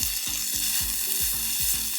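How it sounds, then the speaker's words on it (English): Garlic and pepper sizzling in a splash of oil for Turning Red bao buns, a steady bright crackling hiss with rhythmic stirring scrapes against the pan, close and continuous. "So that's starting to sizzle away."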